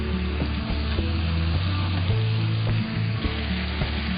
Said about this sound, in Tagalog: like the sizzling sound